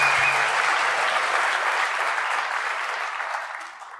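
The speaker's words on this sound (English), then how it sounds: "Give yourselves a round of applause for coming to the desert." Steady applause from a large crowd at a DEF CON hacker convention talk, a dense wash of clapping that holds strong and then starts fading toward the end.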